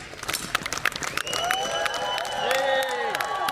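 A street crowd claps in rhythm during a busker's juggling show in Edinburgh around New Year's Eve, sharp dense hand claps close by that swell into a louder, looser burst while voices and whistles rise underneath.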